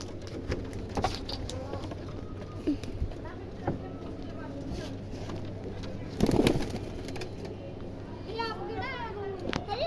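Pigeons coo softly amid other bird chirps and a voice, with scattered clatter and a louder rustle partway through.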